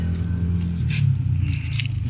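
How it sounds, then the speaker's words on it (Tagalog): Keys jangle close by beside a dirty parked car just collected from a Manila parking lot, a continuous metallic rattling that grows briefly louder midway and carries on alone over a low hum. "Ayan, di susi."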